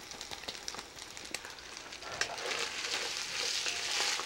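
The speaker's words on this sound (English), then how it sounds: "I put a little bit of white wine just to deglaze everything" A hot pan of cooking ingredients with dried oregano sizzles steadily, the frying growing into a louder, hissing burst as white wine is poured in to deglaze.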